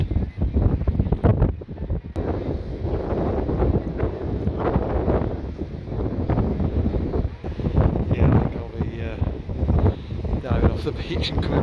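Strong wind buffets the microphone on a beach walkway in Corralejo, a loud continuous low roar with gusty surges throughout.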